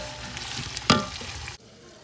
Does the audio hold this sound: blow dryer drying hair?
no